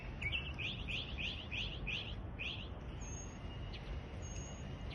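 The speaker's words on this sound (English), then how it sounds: "And he goes through so many of his calls, mimicking other birds." Northern mockingbird singing in a neighborhood, a rapid run of about eight repeated bright chirping notes followed by a few thin whistles, fairly distant, over a steady low rumble of traffic.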